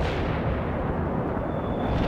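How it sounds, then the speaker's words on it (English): Artillery barrage in the real-time strategy game World in Conflict, a dense continuous rumble of distant shell impacts rolling together without pause, loud and steady. "Artillery strike on the way."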